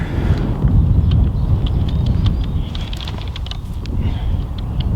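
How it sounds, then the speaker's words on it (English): Strong wind buffeting the microphone on a golf course, a loud continuous low rumble and roar throughout with faint higher rustling above it, no voices. "there is a pretty strong wind today, as you can probably hear"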